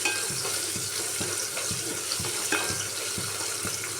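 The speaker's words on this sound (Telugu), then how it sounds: "ఇప్పుడు ఒక స్పూన్ సాల్ట్ వేసి ఆనియన్స్ కొంచెం ఫ్రై అయ్యేంత వరకు వేయించడం" Onions frying with a spoon of salt in a pan at home while sambar is being made, giving a steady close sizzle with regular stirring scrapes throughout and no talk.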